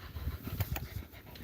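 A pet dog pants close by in quick, steady breaths with faint huffs, alone without talking.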